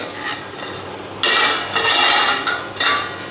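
Kerala egg curry stirred in a metal pot with the gas off: loud, close scraping and clanking of a spoon against the pot in a few bursts, with no voices.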